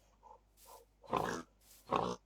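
Pig grunts in the Minecraft video game, several short, low oinking bursts in uneven succession, the last two louder and fuller, with no talk over them.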